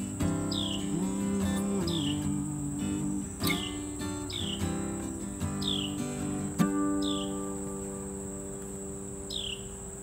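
Birds outdoors in Northern Virginia give short, repeated chirps at regular intervals over a steady drone of insects, faint and somewhat distant, with a sustained tonal background hum.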